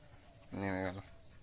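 A single short, faint, nasal call from a duck at a forest eco resort, heard alone against quiet background noise.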